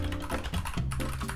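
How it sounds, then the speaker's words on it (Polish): Someone types on a computer keyboard during a live stream: a rapid, steady patter of close keystrokes over faint tonal background sound, with no talk. "Czemu ja nie mogę pisać? Nie no, klawiatura mi działa."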